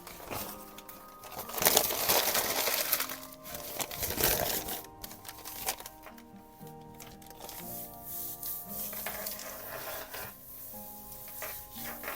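Paper being crumpled by hand for gel printing, with dry crinkling and rubbing rustles in uneven bursts, close up, over a faint background tone.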